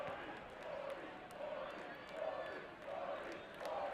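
A basketball crowd at the Shirk Center chants a rhythmic, evenly spaced two-beat cheer during a Division III men's game. The chant is faint and distant and repeats steadily over a murmuring arena.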